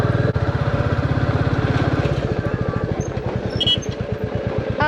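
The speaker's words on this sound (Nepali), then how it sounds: "बुलेट बाइकमा लग्दैछु" A Bullet motorcycle engine runs steadily and close by while riding, with a rapid, even low thump throughout and a brief higher tone near the end.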